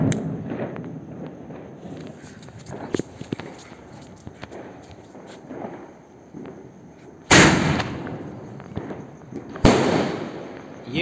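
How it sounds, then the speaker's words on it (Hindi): Blue Star mini sky shot firework lit during a New Year celebration, with low rustling and scattered small crackles before two sharp, loud bursts near the end. "चलो इसको अभी जलाते और देखते ये कैसा चलता है।"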